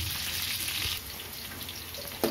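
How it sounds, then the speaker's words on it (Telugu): Bitter gourd pieces fry in hot oil, giving a continuous hissing sizzle, with a brief clink of a utensil near the end. "వీటిని ఇప్పుడు నూనె కాగిపోయింది, దీనిలో బాగా ఎర్రగా వేగనియాలి"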